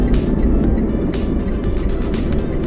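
A car drives along with a loud, steady engine and road rumble heard from inside the cabin, with no speech.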